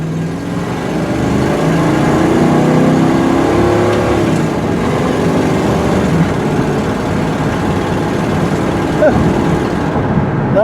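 A 2000 Ford F-150 XL extended cab pickup truck drives down the road, its engine a steady low drone with road noise, holding a fairly constant loud level throughout.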